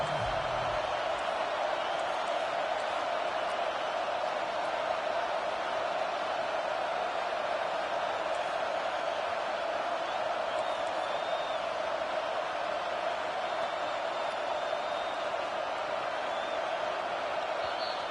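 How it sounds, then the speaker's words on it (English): Large football stadium crowd roars steadily for the home defense on third down, a broad, sustained wash of distant cheering and noise with no distinct voices standing out. "Decibels rising as the crowd gets behind this defense on 3rd down."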